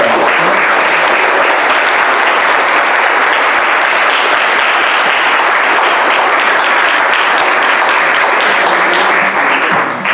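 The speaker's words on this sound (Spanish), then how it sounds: "Un aplauso primero para usted." Loud, dense applause from an audience after a poetry reading, a sustained wash of clapping that stays even for about ten seconds before easing slightly at the end.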